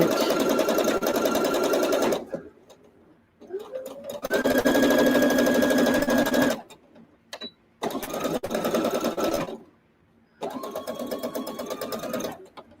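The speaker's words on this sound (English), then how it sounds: "now we sew it to the end and do a back stitch" A domestic sewing machine stitches quilt pieces for a quilt top, finishing with a back stitch, running in several loud bursts of steady whirring with short pauses between runs.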